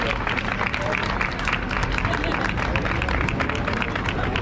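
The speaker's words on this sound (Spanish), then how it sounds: "Fuerte el aplauso para los tres primeros clasificados." A crowd applauds the top three finishers at the 2022 Subida a La Plata race prize-giving. The clapping is dense and continuous, mixed with crowd hubbub and voices.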